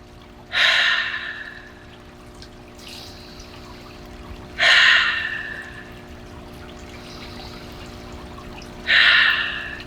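Three slow, deep breaths from a children's yoga session, each a strong breathy rush spaced a few seconds apart, close and clear over a faint steady background hum.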